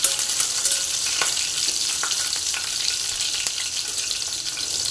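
Green chilies and curry leaves frying in hot oil in a pan for Maharashtrian yellow potato bhaji, a steady bright sizzle and crackle throughout with a few soft stirring taps.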